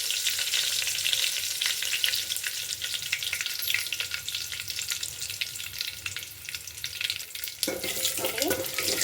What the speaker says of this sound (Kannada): ಎಣ್ಣೆ ಹಾಕ್ಕೊಂಡು, ಎಣ್ಣೆ ಬಿಸಿ, ನೋಡಿ ಎಣ್ಣೆ ಬಿಸಿ ಆಗಿದೆ. ಸಾಸಿವೆ